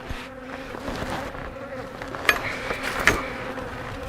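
Honey bees buzz steadily around a beetle-infested hive crawling with hive beetle larvae, a continuous close drone with a couple of sharper knocks partway through.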